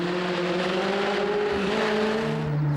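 An Alpine Berlinette rally car's engine drones steadily and loud at close range on a special stage of the Tour Auto 2005, holding a sustained tone that shifts slightly in pitch as the car drives, with no talking.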